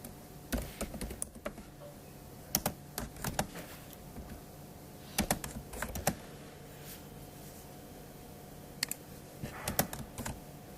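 Rapid keystrokes on a computer keyboard while coding an object-oriented program, arriving in short clustered bursts separated by pauses, close and moderately loud in a quiet room with no talking.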